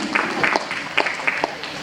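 A short patter of scattered hand claps from a small crowd at a literature festival workshop, irregular and moderately close.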